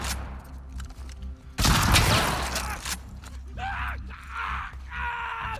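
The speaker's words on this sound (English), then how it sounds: "God, stop shooting me!" Bursts of gunfire in the video game The Last of Us Part 2 under enemy attack, a loud close volley followed by mechanical clicks and shorter shots.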